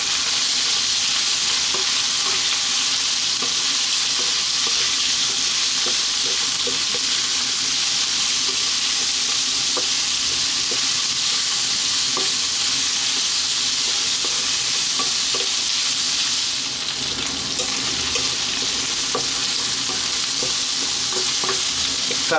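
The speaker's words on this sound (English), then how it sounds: "to that I'm going to drop in our onion, and we're going to stay on this high heat" Onion frying on high heat in a pan for a lamb mushroom coconut curry, with a steady, loud sizzle running throughout and occasional faint stirring clicks.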